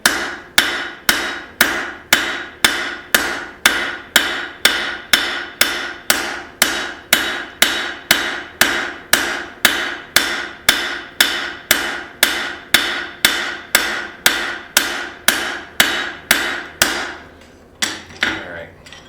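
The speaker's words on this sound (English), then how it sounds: "All right, my cross peen in here. See how wide I can get this before it gets too thin." Cross peen hammer forging hot spring steel for an integral knife bolster: about thirty-five sharp, ringing metal blows in a steady, brisk rhythm, loud and close, with no talk, the strikes stopping just before the end.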